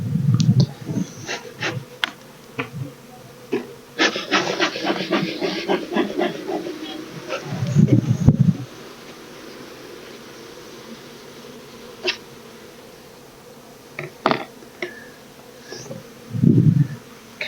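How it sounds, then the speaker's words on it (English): Honey bees buzz around hives at a Colorado apiery in May, a busy mid-distance drone with intermittent louder passes of individual bees flying close by. "Boy, those bees are really noisy."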